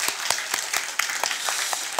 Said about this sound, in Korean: 우리 다시 한번 감사의 박수를 드렸으면 좋겠어요